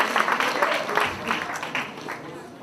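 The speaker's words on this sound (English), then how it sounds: "Please give a big round of applause for the Chinese students" An audience applauds Chinese students at the end of a presentation, a burst of scattered clapping that swells and fades across the room, with voices mixed in.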